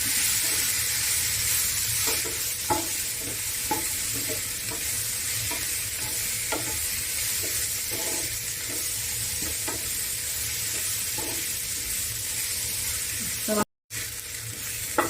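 Chicken filling with garam masala stirred in a pan on the stove, with a steady sizzle of frying underneath and repeated soft scraping strokes at an even pace.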